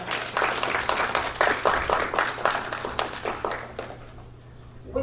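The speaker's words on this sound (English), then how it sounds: "I think she deserves a round of applause." Crowd applause at a Tobago primary schools public speaking competition, a steady wash of many hands clapping for a speaker that thins and fades toward the end, with a low steady hum underneath.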